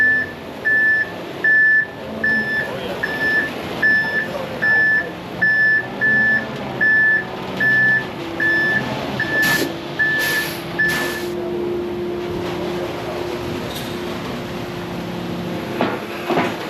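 A concrete truck reversing at a pole barn site gives a regular series of high backup beeps, about one per second, over a low diesel engine rumble, with a few clanks near the end.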